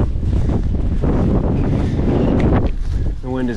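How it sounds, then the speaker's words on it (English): Strong wind buffets the microphone in loud, continuous gusts at a windy corner while bass fishing in early spring, with a brief voice-like sound near the end. "The wind is blowing super fast."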